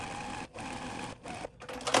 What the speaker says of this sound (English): I'm going to sew a 1/4 inch on this side and a 1/4 inch on this side